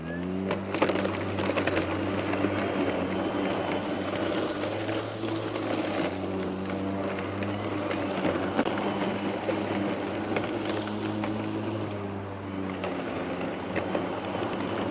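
An EGO Select Cut XP 21-inch self-propelled battery mower cuts tall grass with a steady, continuous electric whir and blade hum that holds level and loud throughout, with no bogging.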